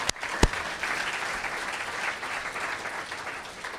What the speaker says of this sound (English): So please, a round of applause for Eric Liu.